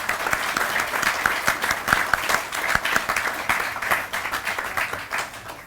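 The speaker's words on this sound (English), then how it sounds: "I want a round of applause just for those donors" An audience at a community center's annual meeting claps steadily in a sustained, dense round of applause that fills the room and tapers slightly toward the end.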